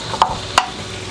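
Garlic sautéing in oil in a pan for pork feet pochero: a steady low sizzle broken by two sharp scraping stirs, close and fairly loud, no speech.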